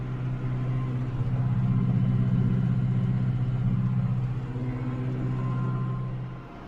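A cab tractor's engine hums steadily from inside the cab, a low continuous drone that swells and then eases slightly as it runs along a main road.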